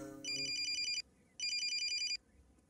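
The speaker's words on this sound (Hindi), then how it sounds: "फोन आ रहा है" A phone rings in two bursts of rapid electronic trills, clear and fairly close, with a short pause between them.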